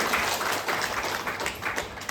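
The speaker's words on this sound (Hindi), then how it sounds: "ताली तो बजाओ" An audience at a Mango Festival devotional gathering claps together, a continuous crowd applause that stays fairly loud and even for a couple of seconds.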